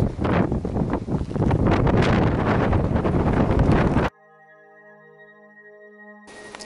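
Strong wind buffets the microphone at a lakeside campsite, a loud roaring rush for about four seconds before it cuts to a quiet tonal hum, then the gusts return briefly at the end.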